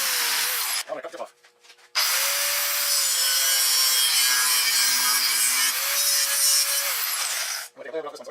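A power tool cuts material off a prototype knife in two long, loud, steady passes, whining with a shifting pitch, separated by brief pauses.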